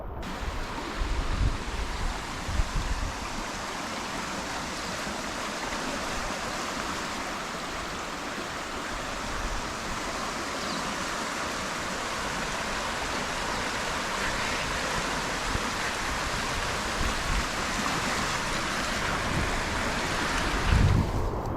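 Steady, heavy rush of a flooded creek running high during a cyclone, a broad continuous roar that stays even throughout with no voices.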